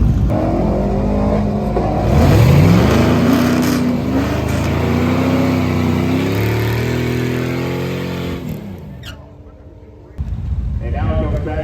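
A race car engine running with a fault, one rib off on the crank, its revs rising and falling in loud sweeping waves before dropping away near the end, with commentary voices talking over it.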